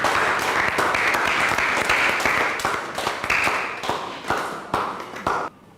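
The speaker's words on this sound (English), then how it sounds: "Shall we clap for them as they take their seat?" A room full of people applauding steadily, dense overlapping claps with a few louder individual claps, fading out abruptly near the end.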